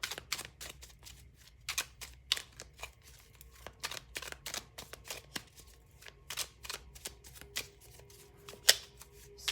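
Cards from a Boodle deck are shuffled in quick, soft riffling bursts and flicks, close and fairly quiet, repeating irregularly throughout.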